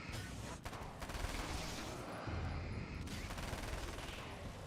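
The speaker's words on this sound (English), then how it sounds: "Oh my god, the SMG is amazing." A submachine gun rattles off rapid bursts in the game Alan Wake's American Nightmare, loud dense firing with brief gaps between volleys.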